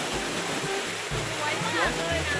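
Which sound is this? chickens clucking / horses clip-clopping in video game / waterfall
waterfall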